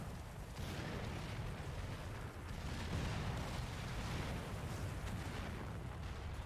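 Artillery units firing in the VR strategy game Final Assault, a steady dense rumble of continuous booming barrages with no clear gaps, moderately loud and sustained throughout.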